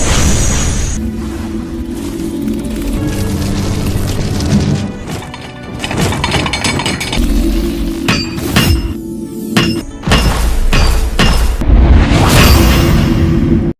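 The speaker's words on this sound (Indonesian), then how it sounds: "Tang Hou juga mengajari Tang San teknik menempa besi sebagai teknik dasar dari palu Hao Tian." Hammer blows ring out on iron being forged in an animated scene, repeated metallic strikes and crashes mixed with whooshes and booming effects, loud and dense with no speech.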